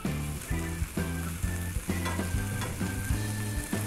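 Burger buns toast in hot bacon fat in a pan, a bright sizzle running steadily beneath a rhythmic tonal backing that pulses in regular beats throughout.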